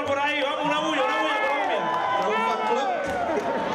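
A salsa concert audience in Downtown cheers and shouts, mixed voices rising together over the hall's ambience with scattered claps.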